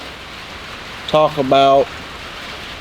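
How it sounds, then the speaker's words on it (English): Rain falls steadily outside as a constant, even hiss in the background, with a voice briefly speaking over it. "it's raining in the background and you can pick that up"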